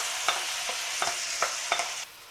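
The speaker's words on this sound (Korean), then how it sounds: "그래서 여기다가 이제 시래기 무침을 넣어서 이제 볶아주세요." Seasoned radish greens stir-fried in hot oil over medium heat, giving a continuous close sizzle broken by several sharp scrapes and stirs at a fairly even rhythm.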